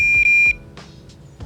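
A bike taillight's built-in alarm sounds off with a loud, sharp electronic beep, a short sustained tone cut by a brief gap, followed by quieter clicks and small knocks.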